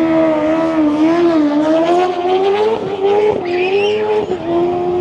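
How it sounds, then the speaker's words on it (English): Cars and motorbikes drag race on an old airstrip at a St. Vincent bike and car show. Close, loud engines wail continuously through rising and falling revs, with brief tire-squeal moments. "Bike and cars just doing some jag race out on the old airstrip or airport."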